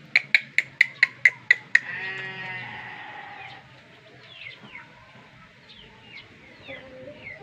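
A quick series of sharp flapping bursts leads into a long, drawn-out Pelung rooster crow, followed by faint bird chirps in the background.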